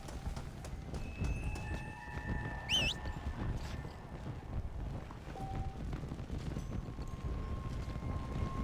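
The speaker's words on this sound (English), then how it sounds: "Horsey!" A horse in the zombie-western game Red Dead Redemption: Undead Nightmare moves at a quick clip-clop through wind and ambient noise, with a brief whistling tone partway through and no talk over it.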